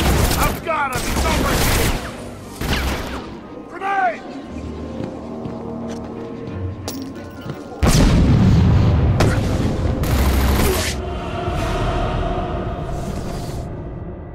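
Explosions and bursts of gunfire in Batman: Arkham City, loud sharp blasts and rapid shots at several moments, with heavy booms near the middle and later stretches, under and between spoken voices.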